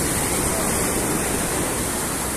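Rough sea waves crash against a sailboat run aground off La Monita beach in Cozumel, a dense continuous roar of surf and spray filling the whole moment with no pauses, loud and close.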